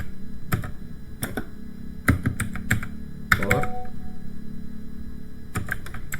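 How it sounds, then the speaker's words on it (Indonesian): Keystrokes clatter on a computer keyboard as a network switch port security command is typed, with separate short taps arriving in quick clusters and brief pauses between them against a low steady hum. "kita ketik aja langsung switch port"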